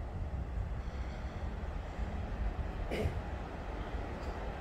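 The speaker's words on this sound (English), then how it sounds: "With the tram train, super tram service to Cathedral from Rotherham Park Gate." A Supertram tram train running at Rotherham gives a steady low rumble under wind noise, with one brief squeal near the middle and no talking.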